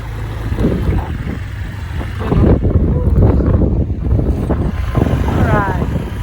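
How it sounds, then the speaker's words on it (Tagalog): Loud wind buffets the microphone in rumbling gusts on a fishing trip in Dingalan, with boat or engine noise underneath and brief voices in the background. "Kasi medyo maingay yung hangin."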